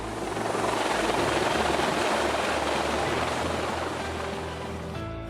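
A rescue helicopter used for winch hoisting roars steadily and loudly overhead, its dense rotor and engine noise filling the scene from start to finish with a faint sea wash beneath, fading slightly near the end.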